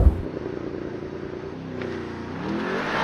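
A 2023 Mercedes-AMG SL63 V8 convertible launching from a race start in Sport Plus mode with traction control off, its engine roaring loud and close as it pulls hard and climbs in pitch through the gear.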